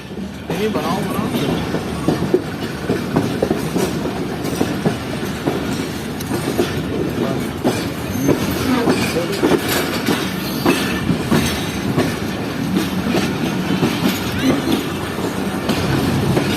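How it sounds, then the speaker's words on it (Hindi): The Shalimar Express changes tracks as it pulls into Nawabshah railway station in Sindh, heard from inside the coach. A steady rolling rumble carries uneven clatter over the points, with a brief squeal at moments. "इस वक्त हमारी ट्रेन ट्रैक्स चेंज करते हुए लग रही है नवाबशाह रेलवे स्टेशन के प्लेटफॉर्म पर"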